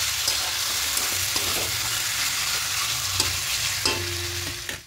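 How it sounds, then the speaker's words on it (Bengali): Chicken for kadai chicken fries on high flame in a wok, giving a loud, continuous sizzle with occasional stirring scrapes and clinks, close by and without talk. "এভাবে হাই ফ্লেমে চিকেনটাকে একটু ভাজা ভাজা করে নেব।"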